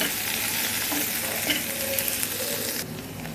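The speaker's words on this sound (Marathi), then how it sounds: "आता हे सगळं एकत्र हलवून घ्यायचं सगळं मिक्स करायचं" Spiced potato bhaji with red chilli, garam masala and salt being stirred as it fries in a pan: a continuous close sizzle with scraping spoon strokes and light clinks against the pan, no voices.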